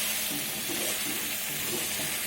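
Spice paste frying in a pan for a pyaj koli dish, a dense steady sizzle that stays loud and close throughout, with faint stirring underneath and no talk.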